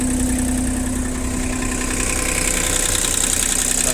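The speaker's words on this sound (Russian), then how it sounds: "экскаватор продолжает работать." The engine of a used Japanese excavator idles steadily and loudly with an even, continuous mechanical drone and no other sounds.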